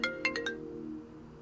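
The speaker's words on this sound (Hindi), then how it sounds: "अरे वेदांत का फोन" A mobile phone ringtone plays a short melodic burst of four bright chiming notes over a sustained tonal hum, sounding fairly near and clear with no talking.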